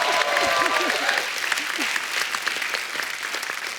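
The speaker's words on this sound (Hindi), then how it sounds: "एक बार जोरदार ताली हो जाए।" A studio audience on a comedy talk show breaks into loud, sustained clapping. The applause is dense at the start and slowly thins out over a few seconds, with faint voices mixed into the crowd noise.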